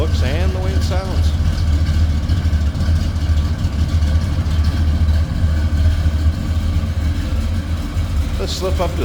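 A 1966 Chevrolet Impala Wagon engine idles with a steady low rumble that runs unbroken throughout, close and fairly loud, with a few brief higher sounds near the start and end.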